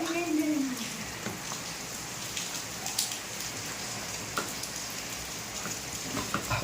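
Steady rain pattering on surfaces, close and continuous, with a few louder drips and a brief faint tone near the start.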